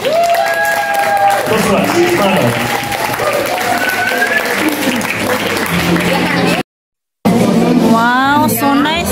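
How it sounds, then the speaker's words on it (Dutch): Party guests at a hotel lunch celebration clapping for communicants, a busy crowd patter mixed with chatter and brief voices, a short silent gap, then more crowd noise with talking. "Geef ze allemaal een daverend applaus"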